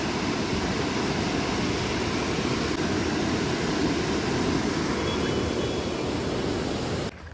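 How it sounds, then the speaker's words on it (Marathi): A river runs in full flow under heavy monsoon rain near Gagangiri Math in Raigad, heard as a dense, steady roar that drops away at the very end. "इथे फ्लो बघा नदीचा"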